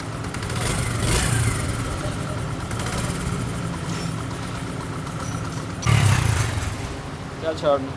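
A 70cc motorcycle engine, freshly rebuilt with cylinder head work and a new timing chain, idles steadily nearby with a low, chugging rumble, and a voice briefly talks over it.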